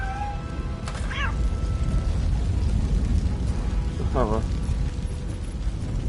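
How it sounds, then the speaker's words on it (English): A fire blocking the way in RoboCop Rogue City roars as a steady, dense low rumble and crackle close by, with brief mechanical squeals on top and a short spoken word. "Fire is blocking the way."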